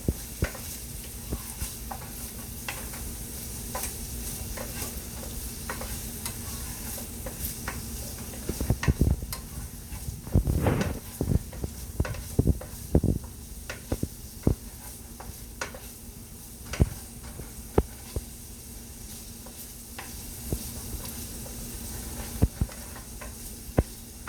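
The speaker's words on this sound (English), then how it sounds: "so we're really sizzling" Vegetables for pasta primavera sizzle steadily in a pan while a utensil stirs and scrapes them, with a burst of clattering stirring near the middle and scattered sharp ticks throughout, and no talk.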